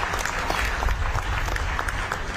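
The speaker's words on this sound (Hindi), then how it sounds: "मेरी बात सही हो तो ताली बजाइए" A crowd at an outdoor political rally in Kalayat, Haryana claps steadily, dense sustained applause throughout with a faint murmur underneath.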